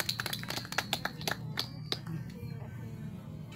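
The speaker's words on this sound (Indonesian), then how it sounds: "Kita berikan tepuk tangan." Applause from a gathered group at a beach event at Parangtritis, with scattered sharp claps that start fairly dense and thin out over a few seconds before fading into a low murmur of voices.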